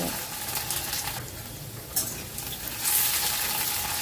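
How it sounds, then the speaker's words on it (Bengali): Cut potatoes are stir-fried in a pan, a close continuous sizzle with light scraping of stirring that swells louder toward the end, with no talk. "মিনিটখানেক নাড়াচাড়া করে আলুটাকে একটু ভাজা ভাজা মতো করে নেব।"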